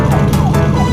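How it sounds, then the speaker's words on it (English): An animated Brazilian police car siren wails loudly and close, a sweeping tone over a low engine hum, filling the whole short moment. "4 Brazilian police cars."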